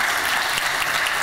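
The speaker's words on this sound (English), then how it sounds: "Round of applause for Shradda, everybody." An audience applauds a speaker at a corporate talk event, a brief, dense, continuous burst of clapping.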